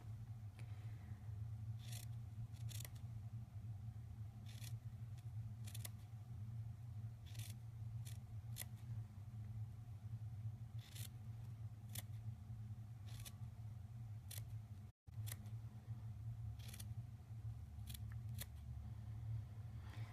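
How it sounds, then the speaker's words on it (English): Repeated quick scissor snips at irregular intervals against a constant low droning hum, with no voices. "Super helpful if you have sharp scissors."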